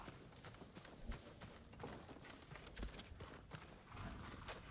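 Horse hooves clip-clop in the Ghost of Tsushima video game, a quick, uneven run of soft thuds at moderate distance over faint ambient background.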